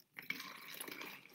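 Water is poured through a funnel into a plastic sensory bottle, a quiet, close trickle and gurgle lasting about a second after a faint start.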